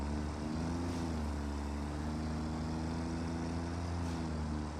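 A tractor in the factory game Satisfactory drives along with a steady droning engine hum and whine, holding a constant pitch with slight shifts, loud and close throughout.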